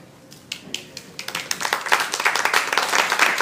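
A few scattered claps swell quickly into steady applause from a small crowd, growing louder and denser over a few seconds.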